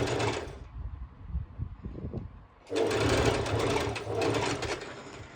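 A sewing machine top-stitches swimsuit fabric, starting with a fast run, then slowing to a few uneven stitches and a pause before whirring steadily again nearby.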